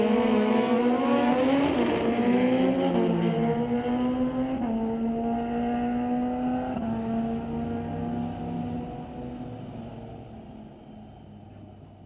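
Drag racing motorcycles, a Kawasaki and a 2006 Suzuki, launching down an NHRA Canadian Sportsnationals drag strip. Loud revving engines climb in pitch through successive gear shifts, then gradually fade into the distance.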